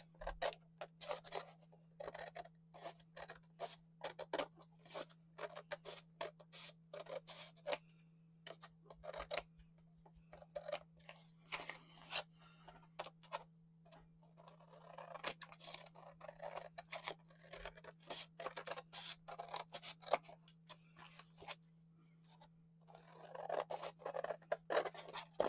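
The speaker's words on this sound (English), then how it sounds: "So I'm going to go ahead and trim this off." Scissors trim paper for a craft kit in a long run of small, close snips and scratchy cuts, with a steady low hum behind them and no talking.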